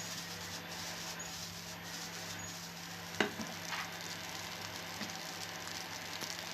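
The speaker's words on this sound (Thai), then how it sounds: "ตรงนี้ก็ผัดให้ไข่ขาวเราสุกนะครับ" Egg whites being stir-fried with rice in a hot pan for golden fried rice with hot dogs, a steady soft sizzle with a few sharp clicks of a spatula against the pan.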